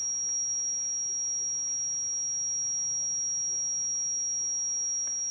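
A ghost hunting app plays a steady, piercing high-pitched sine tone that holds unchanged throughout over faint background hiss, with no talking.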